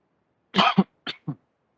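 A man coughs in a short burst of four harsh coughs, two close together then two smaller ones, near and fairly loud in an otherwise quiet room.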